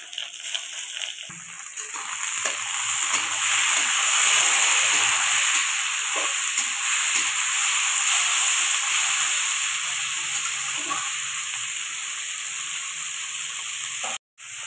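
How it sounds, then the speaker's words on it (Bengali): Chopped onions fry in a pan with salt- and turmeric-coated shrimp, a steady hissing sizzle that swells and slowly eases with a few faint stirring clicks, ending abruptly. "4-5টার মতো পেঁয়াজ কুচি করে দিয়ে দিয়েছি। এখন ভাজা হচ্ছে।"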